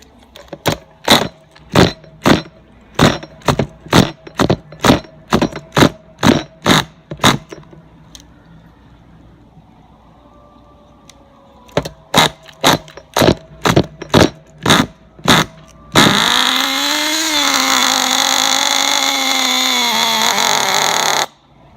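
Nitro engine of an HSP/Exceed ThunderFire 1/16 RC truck being started, two runs of rapid rhythmic pull-start rasps and then a loud buzzing catch that runs high and steady for several seconds before it cuts out.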